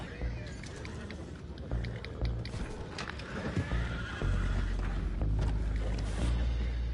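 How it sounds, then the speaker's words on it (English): Horses neighing and whinnying in the Red Dead Redemption 2 game world, with clip-clop hooves and an ambient outdoor mix that grows louder toward the end. "Boys, go find out about those horses down below."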